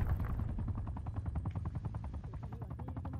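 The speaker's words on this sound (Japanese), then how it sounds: "戦闘ヘリは任務終了だ" An attack helicopter in the video game Call of Duty Black Ops Cold War thuds with a rapid rotor chop and rattling gunfire, a dense, continuous, fairly quiet mechanical rumble.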